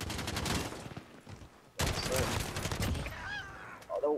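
Call of Duty Modern Warfare gunfire comes in two bursts of rapid shots separated by a short pause, loud and close. Game effects and faint voices sit underneath.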